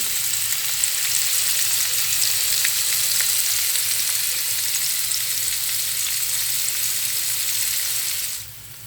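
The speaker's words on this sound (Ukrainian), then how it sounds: "Так, смажиться реберця." Pork ribs sizzle steadily in a hot pan, a constant bright crackling hiss that continues until it suddenly drops off near the end.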